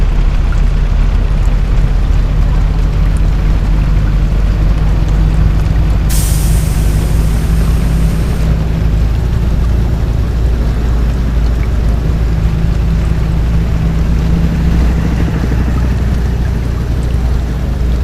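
Heavy rain falls at night during work on a road, a loud, dense and continuous wash of noise with a low rumble beneath, as from a vehicle in the downpour, and a brief hiss midway.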